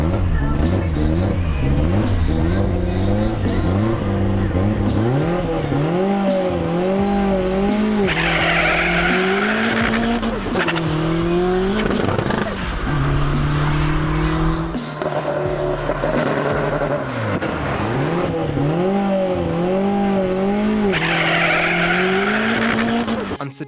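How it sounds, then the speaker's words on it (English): A drag racing car running on ethanol makes its run at the track, engine loud and close with rising and falling revving pitch sweeps and tire squeal, under occasional talk. "The car's running ethanol supplied by 24/7."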